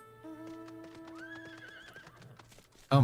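A horse mount in Final Fantasy XIV gives a loud, drawn-out neigh with rising and falling pitch over soft hoof clip-clops, ending in a sudden louder burst of noise.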